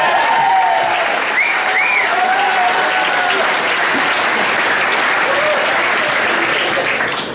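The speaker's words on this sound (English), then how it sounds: "Yeah, I think he deserves a round of applause for that." Steady, dense applause from an audience at a speech, continuous and fairly loud throughout, with a few faint voices and whoops rising above the clapping.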